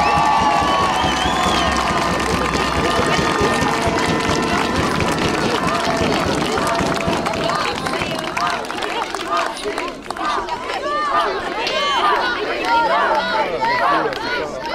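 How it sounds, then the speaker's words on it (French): Crowd cheering and applause at a French Cup 2022 awards ceremony as a team is honoured, loud at first, then giving way to chatter and voices from the audience. "Un tonnerre d'applaudissements pour l'équipe de Vendôme."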